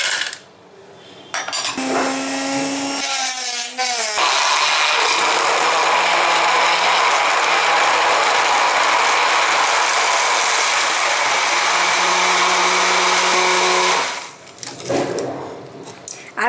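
An electric blender whips yogurt, strawberry syrup, icing sugar and ice cubes into strawberry lassi, a loud steady whirring roar that runs for about twelve seconds after a brief start-up rattle, then cuts out.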